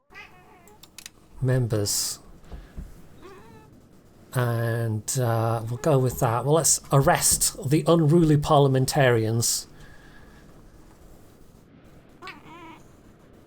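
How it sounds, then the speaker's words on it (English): A pet cat meows repeatedly at close range, a run of loud, drawn-out calls in quick succession, with someone speaking before and after. "That's a cat, by the way."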